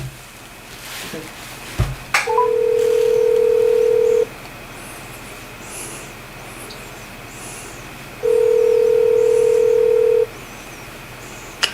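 A phone placing a speed-dialed call: a short dial click, then two long steady ringback tones separated by a pause, heard close over faint room noise.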